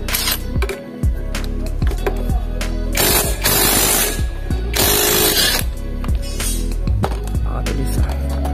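A heavy-duty socket wrench ratchets loudly on the pulley of a Honda Beat scooter, with rapid clicking pawl bursts and clanking metal close by. Workshop noise fills the gaps between the bursts.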